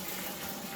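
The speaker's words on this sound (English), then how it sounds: "3 litres of boiling water into there." Boiling water pours steadily into malt extract for a home-brewed beer kit, a continuous gushing, splashing stream heard close up with no talk.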